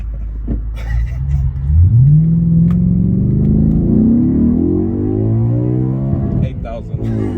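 An Audi B7 RS4 Avant engine revs up hard toward 8,000 rpm, pitch climbing steeply, then holds a loud, high sustained whine for several seconds before easing off.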